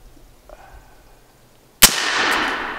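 A suppressed rifle fires a ballistic-tip bullet that bursts on impact: a single sharp, loud crack after near silence, followed by a dense, hissing roar that lingers to the end.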